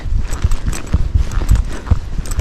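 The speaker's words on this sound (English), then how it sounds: "walking horses and all these gaited horses, they're bred to move out down the trail" A ridden Tennessee Walking Horse, a gaited breed, clip-clops along a trail with quick, even, close hoofbeats in a steady four-beat rhythm and no talk.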